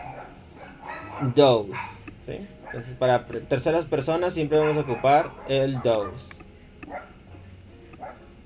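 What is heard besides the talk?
small dogs barking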